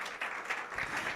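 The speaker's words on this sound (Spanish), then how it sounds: "Dele ese aplauso fuerte." Applause from an apostolic Pentecostal church congregation, a brief, steady spread of many hands clapping, moderately faint with a roomy feel and no voices over it.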